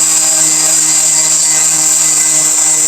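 A power sander works steadily through rough sanding on a live edge wooden coffee table top, a constant close, loud whirring drone with a high hiss and no pauses.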